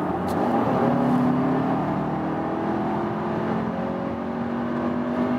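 An Audi Q3 Sportback 2.0 TFSI in dynamic mode pulls hard from 80 to 120, a steady rising engine drone with road and wind whir, heard from inside the cabin without talk.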